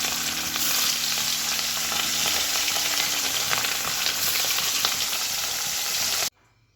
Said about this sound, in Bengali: ইলিশ মাছ তো বেশি ভাজার দরকার হয় না, অল্প একটু নেড়ে চেড়ে ভাজলেই হয়ে যায়।